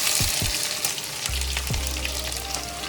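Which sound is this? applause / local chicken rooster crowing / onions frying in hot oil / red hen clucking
onions frying in hot oil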